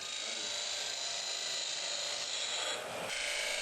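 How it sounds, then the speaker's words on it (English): A wood log turns on a CNC-assisted lathe while the cutting tool works it, a steady, loud, high-pitched rasping whine that barely changes, with a brief dip near the end. "The logs are first rough cut and mounted on a CNC-assisted lathe where the shaping process begins."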